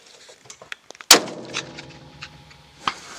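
A single sharp, loud 28 Nosler rifle shot at a long-range shooting session, with a booming echo trailing off after it. A few faint clicks and taps come just before the shot.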